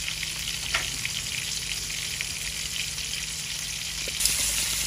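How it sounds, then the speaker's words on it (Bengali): Pieces of fish, shrimp among them, sizzle steadily in hot oil in a pan, a close, even crackle and hiss with a few sharper pops and no voices. "একটু ভাজা ভাজা হইবে মাছগুলো না?"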